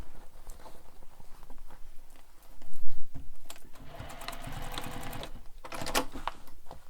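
A sewing machine bastes darts into place along the seam allowance of a Manhattan Bag, running in steady bursts of fast stitching with brief pauses and some handling noise in between.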